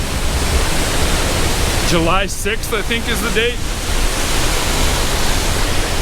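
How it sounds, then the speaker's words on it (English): Raging waterfall along the Beartooth Highway, running high and loud as a steady broadband roar; one person speaks briefly over it partway through. "So I'm trying to remember if I've ever seen the waterfall this raging before."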